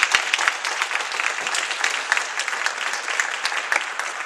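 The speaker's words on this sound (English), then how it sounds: "Guys, let's give our candidates another big round of applause," At the close of an evening event for candidates, the audience gives another big round of applause: continuous, evenly dense clapping from many people, a few sharp claps standing out near the start.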